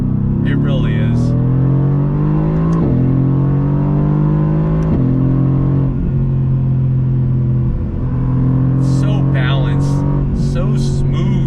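A 2019 Mercedes-Benz AMG GT R accelerates hard, its loud engine note sweeping upward through several quick gear changes, each shift dropping the pitch before it climbs again. Brief voices come in toward the end.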